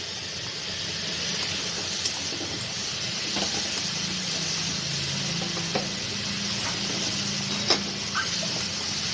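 Chopped tomatoes sizzle in a hot pan while making begun morola, a steady broad hiss holding for the whole stretch with a few faint clicks and no talk.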